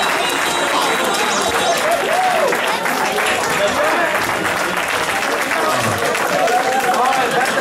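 Dense, sustained applause from an inaugural program audience, loud and continuous with crowd voices and scattered shouts mixed into the clapping.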